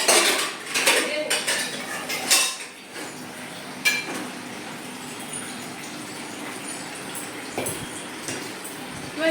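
Cutlery and dishes clink and clatter as a bowl is washed at home, with sharp metallic knocks early on, then quieter scattered clinks over a soft running background.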